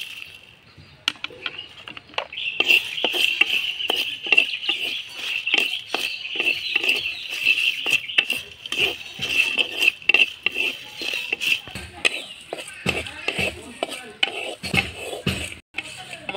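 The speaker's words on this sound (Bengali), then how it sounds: "আমি শুকনো খোলায় ভেজে নেব" Whole garam masala, coriander, cumin and dried chillies dry-roast in a pan on a stove, with repeated scraping and clinking strokes of a stirring utensil under a steady high-pitched chirp in the background.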